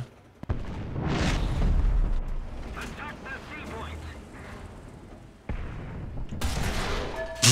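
Cannon fire from a Magach tank in War Thunder, with a loud boom and rumbling roar, then another sharp blast near the end, under a steady engine drone and occasional talk.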